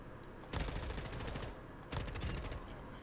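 Rapid bursts of automatic gunfire in a first-person shooter video game, two dense volleys in quick succession, fairly quiet and heard alone.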